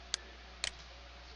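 Two sharp, quiet clicks of a computer mouse, spaced about half a second apart, sound close against a faint steady hum.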